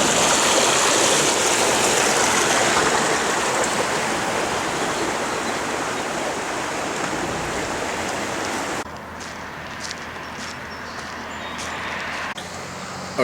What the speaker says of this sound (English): Taking a nice little detour by this little creek.